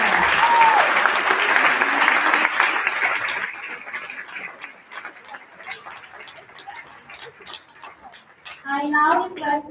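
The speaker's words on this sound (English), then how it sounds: "Let's have a huge round of applause for all of them." Audience applauding award achievers at an annual school awards ceremony, loud and dense at first, then thinning into scattered claps before a voice starts speaking near the end.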